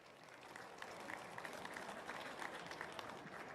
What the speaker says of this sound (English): Another round of applause for Midco.